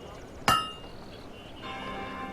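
In the smithy of the Fable 2 video game, a single hard hammer strike lands on metal and leaves a bright ringing clang that fades over quiet background ambience.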